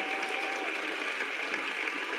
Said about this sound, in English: Give that a round of applause, man.